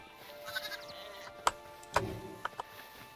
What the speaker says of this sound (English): There's a little sheep family over here.